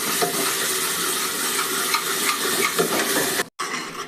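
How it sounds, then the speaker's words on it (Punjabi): Continuous sizzling of a thick spice paste frying in oil in a pan for aloo pakora curry, with faint stirring scrapes and a brief drop to near silence toward the end. "ਇਹਨੂੰ ਆਪਾਂ ਉਦੋਂ ਤੱਕ ਭੁੰਨਣਾ ਹੈ ਜਦੋਂ ਤੱਕ ਮਸਾਲਾ ਆਪਣਾ ਤੇਲ ਨਹੀਂ ਛੱਡ ਦਿੰਦਾ"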